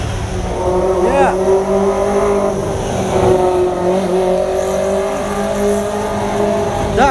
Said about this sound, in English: That guy on a motorbike